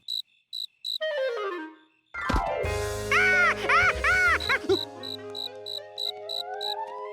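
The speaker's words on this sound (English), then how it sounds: "Did you free that cricket?" A cartoon cricket gives short, bright, evenly spaced chirps, loud and close, with whirring and tonal sounds from a clock workshop in the middle.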